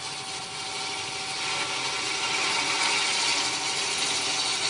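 Wooden knob spinning on a wood lathe as a hand-held turning tool cuts and rounds it, giving a steady, bright scraping hiss with a faint motor whine, close and continuous with no talk.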